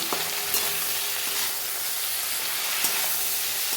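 Flat beans cooking in a spicy mustard-paste curry fry with a constant sizzling hiss while a spoon stirs through the pan, adding soft scrapes and a few clicks.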